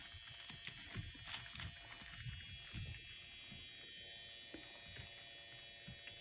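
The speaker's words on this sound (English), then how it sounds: "I think what the sound is right now is clippers." Electric hair clippers from a puppy sound app, a steady low buzzing drone that stays constant throughout with small clicks and rattles mixed in, fairly quiet and with no talking.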